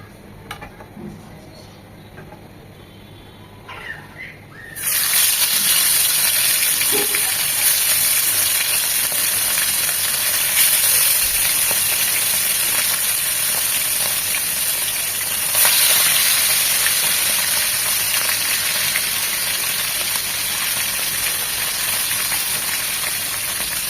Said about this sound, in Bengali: মাছগুলো ভাজার জন্য প্যানে দিয়ে দিচ্ছি সয়াবিন তেল